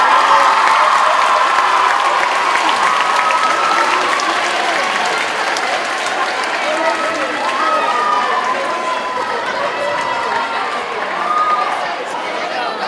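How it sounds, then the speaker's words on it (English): A talent show audience claps and cheers for a school act, steady loud applause with crowd voices mixed in that holds for the whole stretch. "one more round of applause for Chase"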